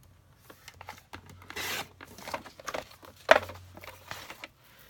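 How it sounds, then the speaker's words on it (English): Card stock sheets being scored and cut on a paper trimmer, with soft scraping and sliding strokes and a sharper rasp near the end, close and fairly quiet. "To do this, I'm just going to score them at 4 1/4. And then I'm going to cut them at 5 1/2."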